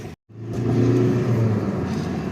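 A diesel car accelerates while driving, after a brief dropout, with a steady low engine drone and rising rumble throughout, close and fairly loud with no talk.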